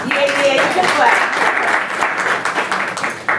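Applause from a community action board meeting audience, a steady dense wash of clapping for a few seconds, close and loud with voices mixed in.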